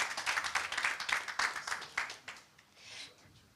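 Applause from a conference audience welcoming a panelist, with the rhythmic clapping of a modest crowd filling the first two seconds and then thinning out and fading toward the end.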